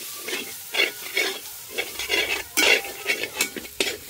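Curry leaves frying in hot oil in a pan for chicken curry, with a soft steady sizzle under repeated scraping strokes of a spoon stirring, close and fairly loud, no talking.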